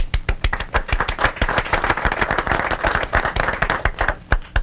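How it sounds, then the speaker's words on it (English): A live studio audience at a 1951 televised award dinner show claps, a dense, uneven run of sharp hand claps that carries on steadily for several seconds. "I don't come up without applause."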